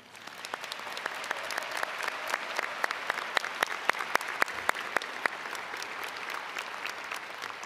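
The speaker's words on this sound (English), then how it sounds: "Please join me in a round of applause for the wonderful faculty and staff of Ames High School." Graduation crowd at the 2023 Ames High School commencement applauding faculty and staff: sustained, somewhat distant clapping from a large audience, with crisp individual claps popping out of the steady wash.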